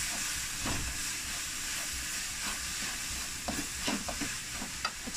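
Spice masala of chilli and salt with a tablespoon of lemon juice being stirred in a hot pan, a continuous close sizzle and hiss with soft scraping strokes of a spoon, no voices.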